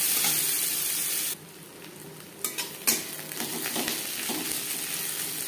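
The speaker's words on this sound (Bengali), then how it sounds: "মাছ ভেজে নেওয়া তেলে দিয়ে দেব পেঁয়াজ কুচি।" Chopped onions, cut fairly large, hit oil left over from frying fish: a loud dense sizzle drops suddenly and then builds back, with a few clanking stirs against the pan.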